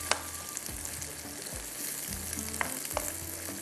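Fenugreek greens and prawns frying in a pan while being stirred, a busy sizzle broken by scraping strokes and a few light clinks.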